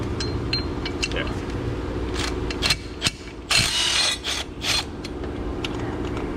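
Ratchet with an extension turning a bolt on a Subaru Forester: steady close-up rapid clicking of the pawl under low mechanical rumble, with a few louder scraping bursts in the middle.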